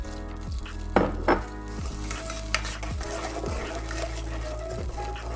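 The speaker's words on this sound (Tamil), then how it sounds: "நல்லா கிண்டி விட்டுடலாம்" Milk and sugar are stirred in a pan for Nutella burfee, with repeated utensil scrapes and a soft bubbling sizzle under steady background music.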